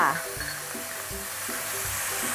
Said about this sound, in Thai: เราก็จะผัดด้วยไฟเบานะคะ ไม่ต้องแรงจนเกินไปนะคะ